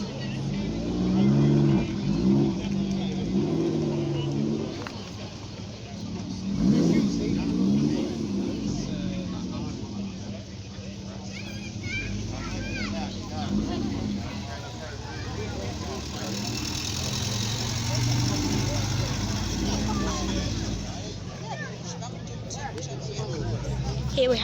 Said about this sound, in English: Here we have yet another Chevrolet Corvette.